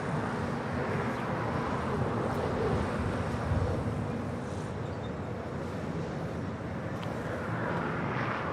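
A fixed-wing airplane departs from a north-side runway at Los Angeles International Airport, its engines making a continuous broad rumble and roar heard from a distance, with some wind buffeting the microphone.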